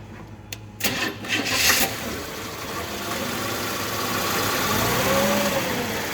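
An engine on a transmission dyno fires up after a few sharp clicks and cranking bursts, then settles into a steady, moderately loud running drone that slowly builds.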